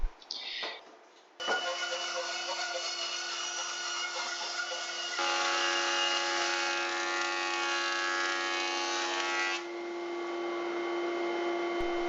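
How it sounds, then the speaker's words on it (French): Power saws cut wood while bed-frame stock is crosscut on a circular saw and ripped on a band saw, a steady high whine holding for about eight seconds with a brief start-up and a lower hum trailing off. "je tronçonne à la scie circulaire et je déligne à la scie à ruban"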